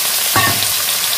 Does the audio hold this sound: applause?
no